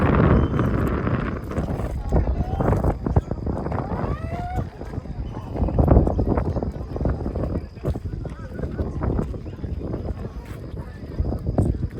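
Strong wind sweeping over Nandi Hills near Bangalore through heavy mist, a continuous gusty rumble buffeting the microphone with a few faint background sounds, no clear speech.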